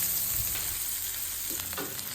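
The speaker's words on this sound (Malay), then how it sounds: "Goreng sehingga bawang merah garing dan kepirangan." Shallots and anchovies fry in hot oil with a soft, continuous sizzle and crackle, plus a few brief pops from stirring. It stays fairly quiet, with no voices.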